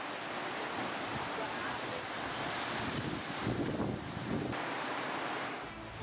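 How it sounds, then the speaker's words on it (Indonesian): Heavy rain and strong wind batter a residential area of Maros Regency, South Sulawesi, where houses were damaged by falling trees, a steady loud roar of downpour and gusts with surging bursts, no voices. "video amatir warga saat hujan deras disertai angin kencang menerjang wilayah Kabupaten Maros"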